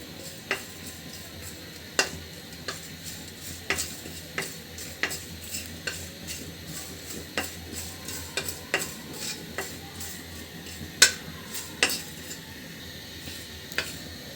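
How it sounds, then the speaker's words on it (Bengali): Dried red chillies and cumin seeds dry roasting in a pan without oil, with sharp scraping clicks of a spatula stirring at irregular intervals over a faint low background, no talk. "এটা কিন্তু তেল দিব না, তেল ছাড়াই আমি এটা ভাজি করে নেব।"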